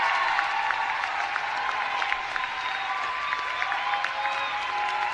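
Loud, steady crowd noise of cheering, shouting and scattered applause drowns out a speaker at a public event, with sharp shrill whistles and calls repeating over the roar throughout.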